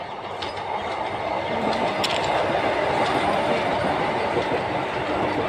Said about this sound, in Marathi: गाइस मेट्रो आलेले आहे